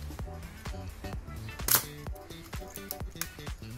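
A Canon VL rangefinder camera with a detached shutter curtain fires once at 1/30 speed: a single sharp, crisp click partway through, set against quieter rhythmic background music.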